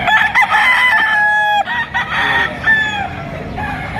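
Bullstag roosters crow at a poultry market in Batangas, two loud close crows back to back with clucking from other fowl around them.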